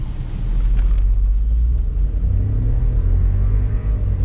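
A 2021 Volkswagen Polo GT launching from standstill under launch control, its engine a loud, close, deep rumbling roar that holds steady throughout, with no talking.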